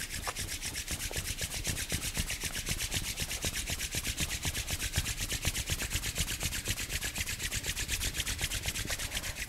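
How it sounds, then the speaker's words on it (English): Two palms rub briskly together in a steady back-and-forth rhythm, a close, dry friction sound repeated many times during an at-home yoga class, with no talking. "Release your hands and rub your palms each other."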